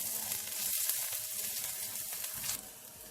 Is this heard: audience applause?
no